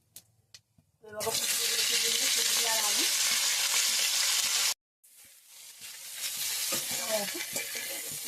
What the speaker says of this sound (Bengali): ভালো করে পাঁচফোড়ন আর শুকনো লঙ্কাটাকে পুড়িয়ে নিতে হবে